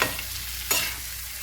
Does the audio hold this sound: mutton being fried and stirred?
yes